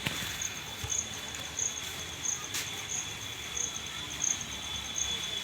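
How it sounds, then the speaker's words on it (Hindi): Heavy rain falls outdoors as a steady, fairly faint broadband hiss, with a repeating high insect-like chirp pulsing over it throughout. "बारिश बहुत तेज़ यहाँ पर हो रहा है"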